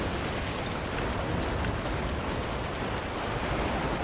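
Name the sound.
heavy rain downpour in Monster Hunter Wilds video game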